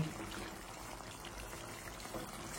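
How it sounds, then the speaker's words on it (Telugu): Korameenu fish curry simmering in a pan, a steady dense bubbling hiss that runs without a break, close and moderately loud with no voices. "కృతమని ఉడుకుతోందండి."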